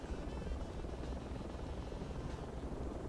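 Transport helicopter in the Project Reality game, rotor and engine drone holding steady and loud as it sits on a helipad after landing, with no speech.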